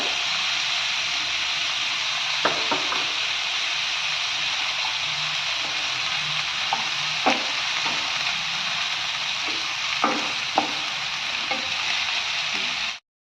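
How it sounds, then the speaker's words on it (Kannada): Two spoons of cumin seeds fry in a pan for tomato chutney, giving a continuous bright sizzle with scattered spoon clinks and scrapes throughout. "ಜೀರಿಗೆ ಹಾಕ್ತಾಯಿದ್ದೀನಿ 2 ಸ್ಪೂನು."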